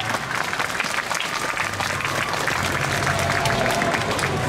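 Sustained audience applause at a yosakoi dance festival in Urawa, a dense, steady wash of clapping from a large outdoor crowd lasting throughout.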